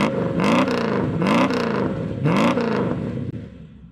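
A car engine with a valved exhaust revs hard three times in a row, each rise and fall loud and close, with a deep rumbling exhaust note between the bursts.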